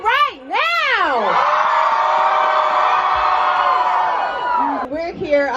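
A crowd at a homecoming show cheers and whoops loudly in a sustained roar lasting several seconds. A voice calls out before and after it.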